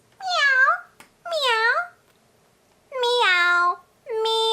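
A voice imitates a cat, giving four drawn-out, high meows in two pairs, loud and close, with short pauses between them.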